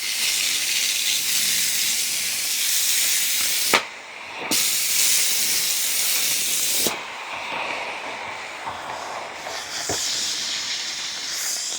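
A Shark steam mop on its high setting hisses with a steady broadband rush of steam, its pump working underneath, broken by a few brief dips and clicks as the flow momentarily cuts and resumes.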